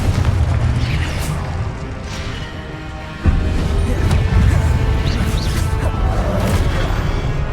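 Confringo fire-spell explosions from Hogwarts Legacy boom through a dense, continuous din of combat, with a heavier blast hitting around midway and rumbling on under the clash.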